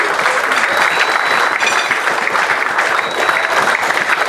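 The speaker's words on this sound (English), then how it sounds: "give them a big round of applause." Sustained applause from an audience at a Caribbean Cup Over 50s cricket award ceremony at Kensington Oval, steady dense clapping throughout at close range with no talk over it.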